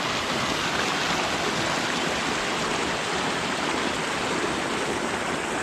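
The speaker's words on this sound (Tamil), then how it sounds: "பாருங்க எப்படி தண்ணி போகுதுன்னு." A stream of water rushes steadily near a waterfall in Kolli Hills, a dense, unbroken hiss of flowing water, loud and close, with no voices.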